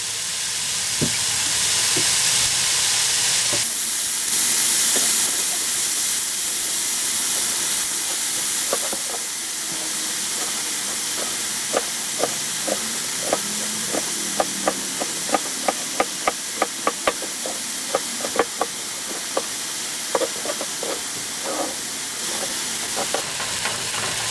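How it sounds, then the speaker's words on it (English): Ground taco meat browning in a pan in a small RV kitchen, a steady loud sizzle and hiss with scattered sharp pops and crackles that cluster in the middle, no talking. "Now while this taco meat is browning up"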